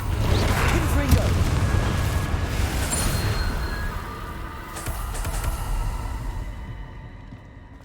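A Confringo fire spell from Hogwarts Legacy bursts with a heavy booming blast up close, then rumbles and crackles away over several seconds amid game clatter and a talking voice.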